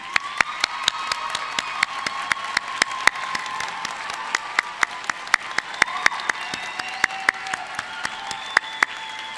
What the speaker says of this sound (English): allow us to applaud your efforts that have led to this day for these graduates